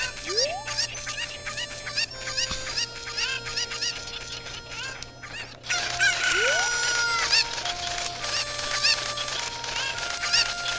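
Cucco chickens in The Legend of Zelda: Ocarina of Time cluck repeatedly in short bursts while sharp cock-a-doodle-doo crows ring out, with game chimes and tones layered over the clear, steady chatter.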